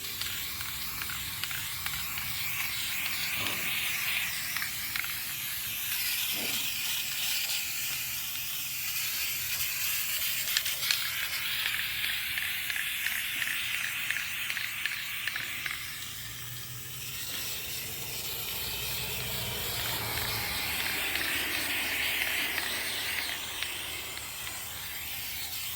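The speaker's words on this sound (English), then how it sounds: "And we're spraying in circular motions." Aerosol straw hat stiffener sprayed in circular motions onto a straw hat, a steady close hiss running nearly unbroken with slight pulsing and a brief dip partway through.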